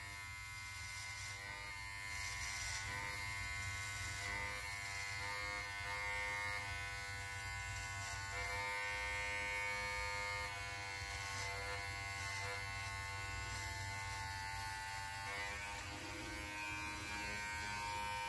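An electric beard trimmer hums continuously at close range while trimming a beard neckline, a steady high-pitched buzz that shifts slightly as it moves over the skin, with no talking.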